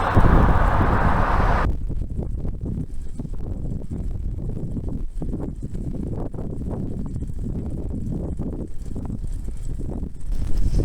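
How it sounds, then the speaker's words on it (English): Steady low wind roar buffets the microphone while bicycle touring on Old US 95 in Nevada, a dense rumbling rush with faint rhythmic clopping beneath it. "it's a windy day"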